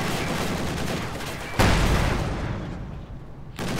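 In Company of Heroes 2, a tank fires on an IS-2 with a sudden loud boom that decays, followed shortly by another blast, among ongoing battle noise.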